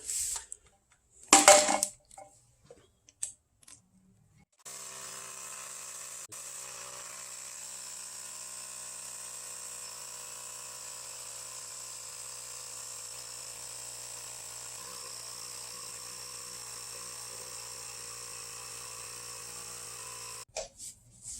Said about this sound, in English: fill it up with the Ryobi power inflator